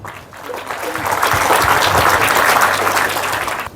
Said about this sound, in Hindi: आपकी जोरदार तालियों के बीच में